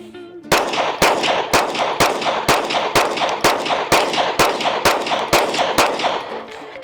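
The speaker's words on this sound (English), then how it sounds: "There's like no reason to keep shooting like that from that far away." Gunfire at a distance: a steady run of about a dozen evenly spaced shots, each a sharp crack over a constant noisy background.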